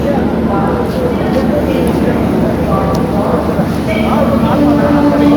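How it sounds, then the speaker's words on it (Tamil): Wind roars in through an open train window, a loud, steady, broadband rush that never lets up, with voices faintly underneath. "என்னடா இது உஷா ஃபேன்ல வர்ற மாதிரி என்னமா காத்து வருது?"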